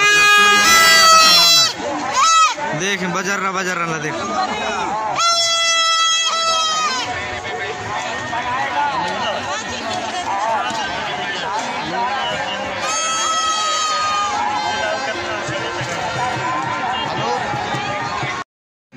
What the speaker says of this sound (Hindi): इतना ज्यादा भीड़ है, चलने का रास्ता भी